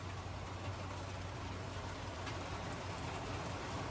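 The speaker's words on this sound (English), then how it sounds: "I am really getting rained on." Rain falls steadily in Arizona, a dense, even hiss of drops on surfaces with no breaks or voices, moderately faint and continuous throughout.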